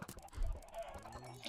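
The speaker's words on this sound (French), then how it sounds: "Ça fait du bruit les poulets, c'est chiant." Chickens cluck in the Minecraft video game, a brief burst of game fowl sounds mixed with other in-game noise, moderately quiet and without speech.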